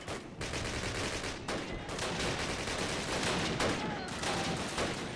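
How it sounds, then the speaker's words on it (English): A grenade blast in the Call of Duty video game, heard as dense, loud, sustained battlefield noise full of rapid gunfire bursts that mask any single explosion. "That was a grenade"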